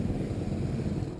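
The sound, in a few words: Suzuki Raider R150 carburetor motorcycle riding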